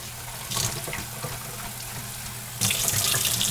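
Tap water runs into a sink as brine shrimp hatching equipment is rinsed, a steady close splashing rush. It swells louder partway through as the flow increases or the stream hits the equipment, and no one talks.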